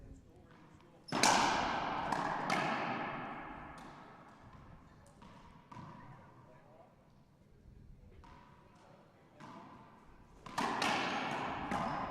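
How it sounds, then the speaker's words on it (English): Racquetball forehand shots during a tournament match in Chicago, several loud sharp ball strikes echoing off the court walls with long reverberant tails, spaced a few seconds apart. "firing off a few forehands for points"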